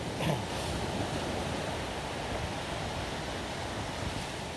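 Ocean waves wash steadily on Angin Mamiri beach in the Tanjung Bunga area of Makassar, a continuous broadband surf roar with some wind, unbroken and even for the few seconds heard, with no voices over it.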